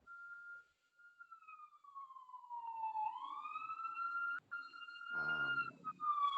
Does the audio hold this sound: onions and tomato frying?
no